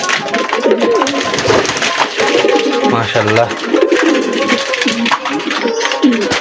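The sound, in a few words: male pigeon cooing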